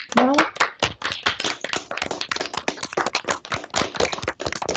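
An online audience claps over unmuted microphones, with a dense, uneven burst of many hands clapping close and loud, plus a brief voice at the start.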